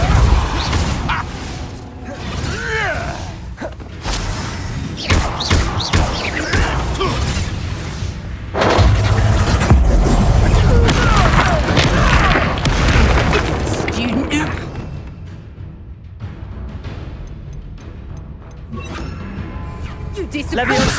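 Heavy magical impacts from the Repulso spell in Hogwarts Legacy land as repeated booms and crashes with whooshes, loud and dense through a busy duel, with voices shouting over the fighting.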